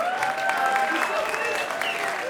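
A live concert audience claps for the lighting, sound and reception crew, a dense, continuous wash of applause with a sustained tonal hum from the stage ringing through it.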